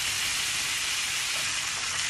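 Beer-marinated pork ribs sizzling steadily in a pan over high heat, a continuous bright hiss with no voices.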